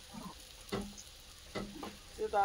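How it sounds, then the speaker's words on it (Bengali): Poppy seed paste for a Bengali sole fish curry sautés quietly in a pan, a soft low sizzle broken by three distinct spatula scrapes and stirs; no talking. "পোস্ত বাটাটা আরেকটু ভালো করে কষিয়ে নিতে হবে"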